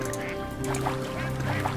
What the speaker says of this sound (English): Oh, ducks. There's a duck.